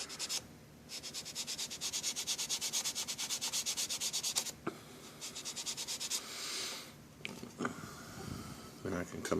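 Close, steady rasping of sandpaper worked back and forth over a model car body during paint prep, in rhythmic strokes with short pauses and shifts of pace.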